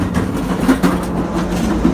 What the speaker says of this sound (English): So I'm sitting on the train.